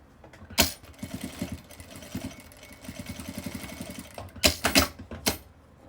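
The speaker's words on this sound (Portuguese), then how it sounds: "E vou fazer uma costura aqui de pesponto, fazendo o acabamento aqui do nosso terminal." A sewing machine runs a topstitch seam along the edge of a small fabric phone pouch, stitching in short rhythmic bursts close by, with louder handling clatter at the start and near the end.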